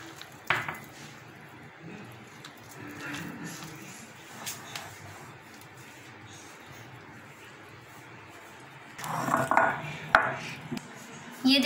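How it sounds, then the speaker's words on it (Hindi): Soft, irregular squishing and pressing of donut dough being kneaded by hand in a home kitchen as milk is added, with light clinks of bowl and utensils and a louder burst of handling near the end. "इसको अच्छे तरीके से आपने गूंथ लेना है"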